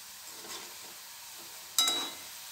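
Hot oil softly sizzles under frying chapati vadas, then a brief, brighter burst of hiss and clatter comes as the pieces are stirred and lifted out, fading back to a gentle bubbling.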